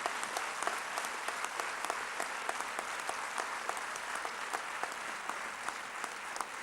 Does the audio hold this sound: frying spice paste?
no